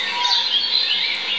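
A female osprey gives high, thin trilling calls in a continuous run, fairly clear and unaccompanied.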